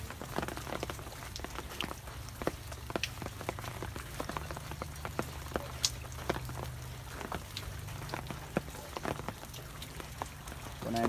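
Rain falls at an old abandoned pond, a steady patter of many small drops on the surface and nearby objects, with scattered louder taps over a low rumbling background, close and continuous.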